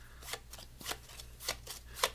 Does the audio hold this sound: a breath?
no